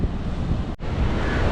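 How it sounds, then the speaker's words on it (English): Loud, blustery wind roars into the microphone over the rushing wash of choppy sea waves at Galle, Sri Lanka, with a brief dip partway through. "It is very, very windy here in Sri Lanka, and the waves are very, very choppy."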